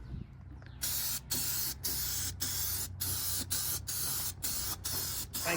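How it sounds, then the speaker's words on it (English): Spray paint applied to a square body truck cab corner in a series of close hissing bursts, each about half a second, separated by short gaps. "So what I'm gonna do is I'm gonna paint this, let that dry"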